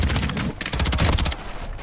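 Rapid SMG fire in Modern Warfare 3, likely from a Rival-9, crackles in dense bursts across the whole stretch, loud and close, with a short break midway before the shots resume.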